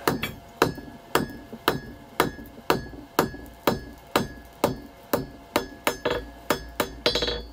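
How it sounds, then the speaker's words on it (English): A hammer strikes steel on an anvil while forging a two-sided point on a blacksmith's knife blade, steady rhythmic ringing blows evenly spaced and close, with no talking. "we're just going to forge a point on the far end, on the far side of the anvil"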